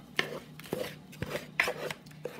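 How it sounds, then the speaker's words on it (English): A knife cuts stiff butter into dry flour ingredients for an autumn fruit crisp topping, giving a few scattered, close scraping and tapping strokes against the bowl at an irregular rhythm, with no talking. "So here I'm just trying to cut the butter, which is still fairly stiff,"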